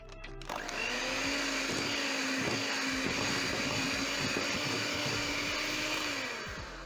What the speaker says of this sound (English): Once it is combined, I'm going to use my mixer at this point.